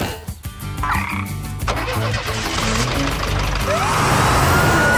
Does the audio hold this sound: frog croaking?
yes